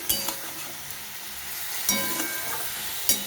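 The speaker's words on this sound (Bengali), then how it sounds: "এবার আমি এইভাবে কিছুক্ষণ কষিয়ে নিই" Shukto vegetables sauté in a pan, a continuous close sizzle broken by a few sharp spatula scrapes and knocks against the pan, with no one speaking.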